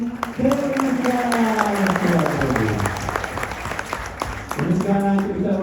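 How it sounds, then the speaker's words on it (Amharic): Rhythmic clapping of praise from a congregation at an Orthodox church celebration on Hosanna day, continuous and fairly loud, with chanting voices carrying over it. "የምስጋና ጭብጨባ"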